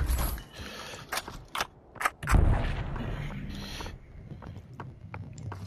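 Gunfire in the VR shooter Population One: several sharp, loud shots in quick succession early on, a heavy blast and rumble in the middle, then quieter scattered cracks and clatter over a steady background.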